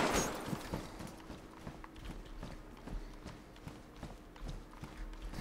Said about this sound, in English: I hear footsteps, right?